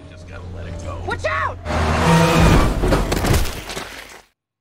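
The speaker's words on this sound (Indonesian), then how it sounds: "supir truk itu menabrak seorang wanita yang sedang melintas di depannya" A truck strikes a woman crossing in front of it in a Resident Evil film: a sudden loud crash and impact burst with breaking debris, following a brief stretch of quieter sounds and voices, then cutting off abruptly.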